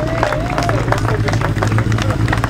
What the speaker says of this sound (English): the crowd now turn to greet the race winner, Dean Harrison, on his Kawasaki